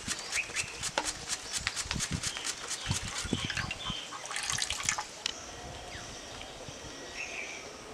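Tap water runs and splashes as hands are washed in a home kitchen while raw banana chips are being made. Uneven drips and splashes come close and fairly busy for about five seconds, then ease off into a quieter trickle.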